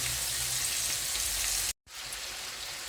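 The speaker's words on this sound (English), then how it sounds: "Bacon is on." Bacon frying in a pan gives a dense, steady crackling sizzle up close, cut off by a brief gap of silence before the hiss resumes at the same level; no one speaks.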